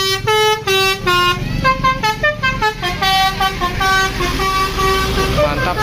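A tour bus plays its telolet horn at a roadside stop in Galendo, Ciamis, a loud, busy melodic run of rapid musical toots that keeps going, with crowd noise underneath.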